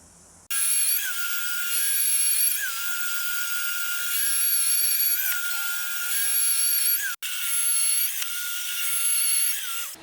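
A drill bores small 5 mm holes through an offcut of plastic for a hot tub skimmer cover, a loud, steady high-pitched whine running almost continuously with slight pitch dips as each hole is cut and one brief break.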